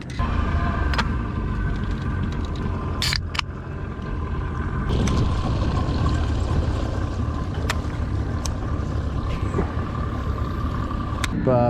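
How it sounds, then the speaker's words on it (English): Electric trolling motor pushing a small bass fishing boat, a low steady hum under water and hull noise with occasional sharp knocks and clicks. "We're going with the trolling motor now"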